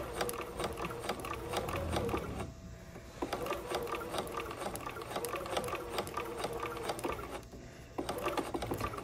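A Bernina sewing machine stitches long gathering stitches, its needle mechanism chattering in a fast, even, close rhythm, pausing briefly twice before running on again, with no voices.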